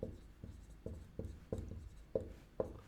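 Pen strokes scratch across paper as notes are written by hand, a quiet, close series of short rhythmic scrapes, roughly seven strokes, with no talking.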